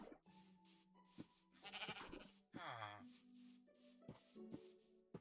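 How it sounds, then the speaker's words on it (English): A few short, wavering sheep bleats from Minecraft sound over a steady low background hum, with soft rustling and small clicks between them. "Okay, we got this sheep."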